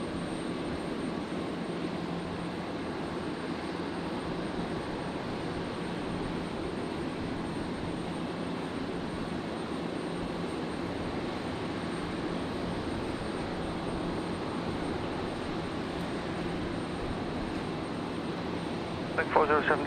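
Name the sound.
Qantas 628 airliner arriving on runway 01 right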